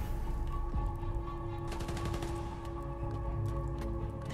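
Sustained gunfire in the Spider-Man: Miles Morales video game, a dense steady bed of shots over a constant mechanical hum, with a brighter burst of rapid fire through the middle of the stretch.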